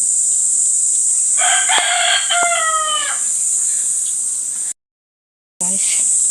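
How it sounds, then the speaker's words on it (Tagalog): A rooster crows once, a clear rising and falling call in the middle, over a steady high background hiss, followed by a brief silence, in Laguna, Philippines. "Legit na tilaok ng manok. Kaya naririnig mo."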